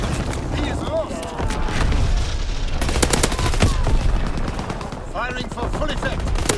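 Gunfire and artillery from the World War II shooter game Call of Duty: WWII, dense and continuous, with rapid bursts and heavy booms layered over one another alongside radio-style callouts and other game voices.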